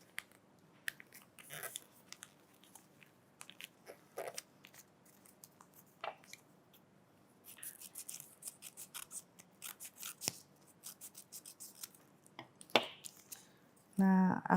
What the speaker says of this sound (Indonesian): Kita ambil kertas warna lain. Sama seperti tadi kita gunting.